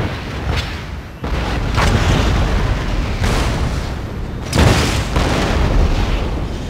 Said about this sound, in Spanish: Vemos cómo sigue disparando con toda su artillería.